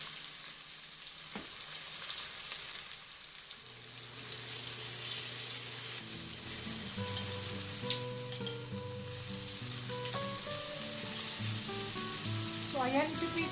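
Marinated pork pan-frying toward golden brown for a pork estofado, a steady close sizzle that grows busier and crackly as it cooks, with occasional soft clinks and stirring.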